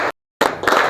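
A classroom of students claps together in a rhythm drill: a short burst of claps, a brief silent gap, then a ragged cluster of claps from many hands close by.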